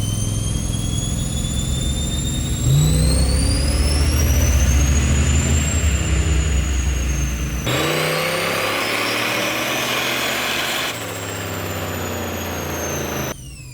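A turbocharged police car engine revs on a dyno, holding a loud, steady drone that climbs in pitch, drops back and rises again over the pull.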